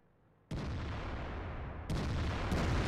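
Artillery gun firing in the tank game World of Tanks: a sudden loud boom after a quiet moment, followed by a long rumbling roar and a second sharp blast, heavy and close with no talk.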